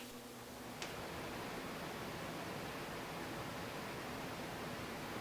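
A steady, broad whooshing hum of a fan runs continuously at a low, even level, with a faint click near the start.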